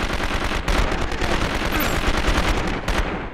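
Rapid automatic gunfire in the video game 24: The Game, a dense, continuous burst of loud shots rattling without pause, close and alone.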